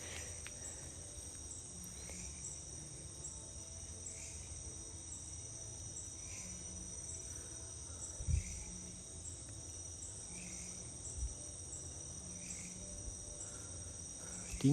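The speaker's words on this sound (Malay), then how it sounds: "Kalau tak ada bunyi karaoke tu, memang kawasan ni boleh dengar hanya cengkerik saja." Crickets chirp steadily at night around an old two-storey bungalow, a dense high trill with regular pulsing, alone and fairly close, with a couple of faint low thumps in the background.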